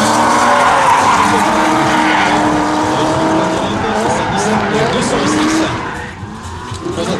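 A powerful rear-wheel-drive BMW drift car, around 380 horsepower, skids at a drift show in Alsace, France, its tires squealing loudly and continuously over a revving engine for several seconds before fading.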